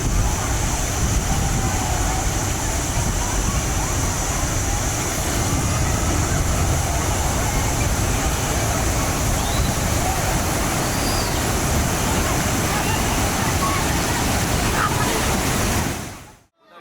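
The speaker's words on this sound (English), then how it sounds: "What appeared to be a normal landscape quickly transformed into a raging torrent of water." A continuous, loud roar of rushing floodwater, broad and unbroken, like a raging torrent, holding steady before cutting off abruptly at the end.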